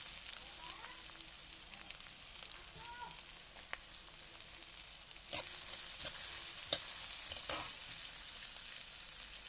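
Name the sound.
onions and chillies frying in oil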